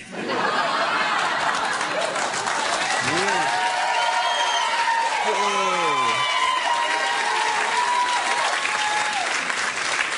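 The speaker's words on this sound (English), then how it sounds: "what the audience are cheering at" Studio audience on a late-night talk show bursts into loud, sustained applause with cheering, whoops and scattered laughter rising over dense clapping for about ten seconds.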